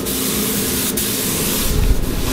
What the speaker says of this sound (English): In 3, 2, 1, spray!